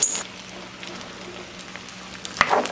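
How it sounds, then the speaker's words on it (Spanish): Corn kernels frying in a pan with onion and chiles for Mexican esquites, a faint steady sizzle with a louder scraping stir near the end, no talking. "Los vamos a mezclar para que se frían un poco hasta que los granitos de lote se vean como un poco transparentes"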